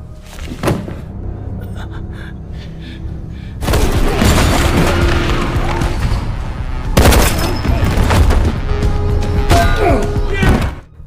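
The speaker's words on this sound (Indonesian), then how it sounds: "Sempat terjadi baku tembak dengan agen Alice yang muncul secara tiba-tiba" Gunfire in a film shootout, loud bursts of booming shots and rapid volleys layered with rumbling impacts and clatter, continuing in dense waves over several seconds.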